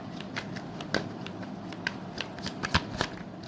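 Tarot cards shuffled and drawn one at a time, a run of soft crisp flicks and slaps at close range, with sharper card snaps near the end and no talking.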